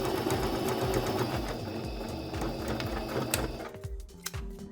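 A sewing machine stitches a seam in premium fabric remnants for a pillow, running in a fast, steady mechanical chatter near the mic and then slowing and stopping at the end.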